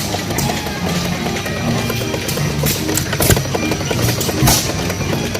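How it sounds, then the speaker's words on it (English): Small hit-and-miss gas engines run at a threshers show, giving irregular thumps and pops over a dense, busy backdrop of outdoor crowd noise and band music. "These little hit and miss engines."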